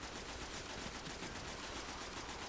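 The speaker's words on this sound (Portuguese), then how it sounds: "Quem atira em mim?" Rapid gunfire in the video game Destiny, a dense continuous stream of fast shots without pause, fairly quiet overall and with no talking.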